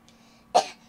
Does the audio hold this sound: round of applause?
no